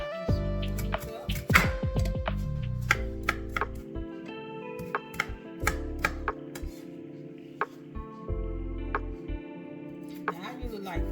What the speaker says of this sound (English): chop me some greens up